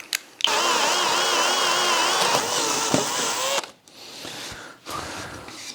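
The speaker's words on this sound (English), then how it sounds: "Okay, that should give me my auger bit something to run in." A drill bores into wood with an auger bit during a workbench tool holder build, a loud sustained whirring grind with pitch wobbles that stops abruptly, followed by quieter handling noise.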